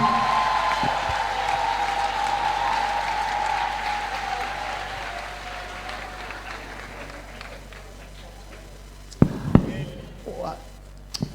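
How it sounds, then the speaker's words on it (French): A church congregation cheers and applauds for the Lord Jesus during a testimony service, a broad, steady wash of clapping and crowd noise that slowly fades, followed by a few sharp louder bursts near the end. "Est-ce que quelqu'un peut acclamer encore très fort pour le Seigneur Jésus?"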